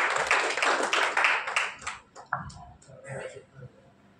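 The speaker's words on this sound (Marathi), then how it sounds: "एकदा जोरदार टाळ्या दिल्याबद्दल योगेश पाटील सर असायचं." Audience clapping to welcome a speaker, a thick burst of applause for about two seconds that quickly dies away into scattered claps and low murmurs.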